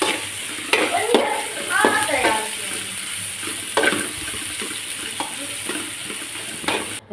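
Onions frying until brown in a pan, a close crackling sizzle with intermittent stirring and scraping strokes, a few brief louder clatters, no talking.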